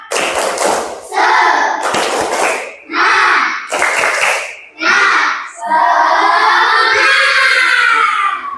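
A classroom of children does a rhythmic spirit clap, bursts of group clapping and thumps alternating with chanted voices, ending in a long sustained shout, loud and close.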